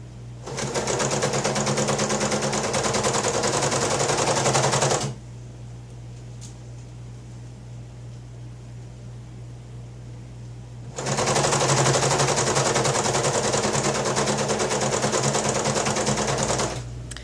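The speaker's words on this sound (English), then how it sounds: "I believe I'm going to 4 needle serge this seam as it originally was in just a moment now" A four-needle serger stitches a seam on a shirt of an Elvis costume, loud rapid mechanical chatter that runs steadily, drops to a low idle hum for several seconds, then resumes at full speed.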